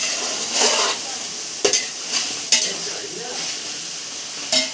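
Chicken fries in a pot and is stirred, a soft sizzle under a few sharp scrapes and clinks of a utensil against the pot.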